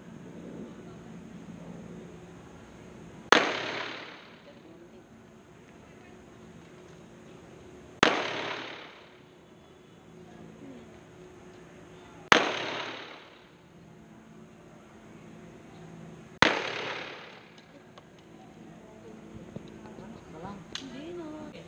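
Four loud gunshots at an indoor shooting range, spaced roughly four to five seconds apart, each a sharp crack followed by a booming echo that decays slowly, with a low hum between shots.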